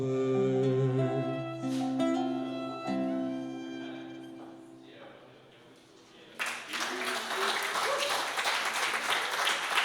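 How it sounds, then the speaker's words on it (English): Audience applause breaks out at an album release concert at a wine bar, a sustained burst of clapping that follows sustained musical notes dying away. "Round of applause"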